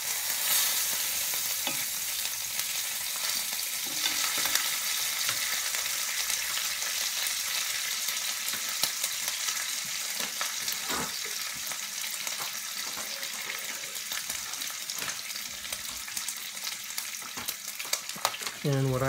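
Bacon fries at around 300 degrees in a Gotham Steel 9.5-inch titanium non-stick skillet, giving a steady, close crackling sizzle that runs throughout with scattered louder pops and no talking.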